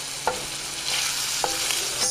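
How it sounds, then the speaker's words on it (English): Steady sizzling of food frying in a pan, a close, continuous crackling hiss with a couple of soft clinks from stirring. "Listen to that sizzle."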